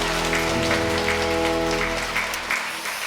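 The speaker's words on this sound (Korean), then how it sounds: "박수로 격려하겠습니다" Church congregation applauding during a Sunday worship service, a steady dense patter of clapping that holds for a few seconds and then thins out near the end.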